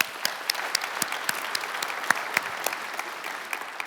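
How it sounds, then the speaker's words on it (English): Congregation applauding at a church gathering, scattered individual claps standing out as sharp distinct hits over a softer bed of clapping, moderately quiet and fairly even throughout. "you can clap for that"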